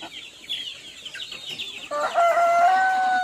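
Rhode Island Red hens that have laid eggs cluck nearby, soft murmuring calls giving way to a louder drawn-out rooster-like crow near the end.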